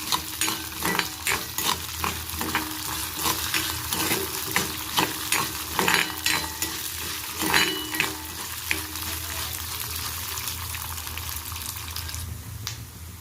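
Coriander and cumin seeds roasting in a pan, stirred with a run of rhythmic scraping, rattling strokes that fade into a steady soft sizzle, close and moderately loud with no talking.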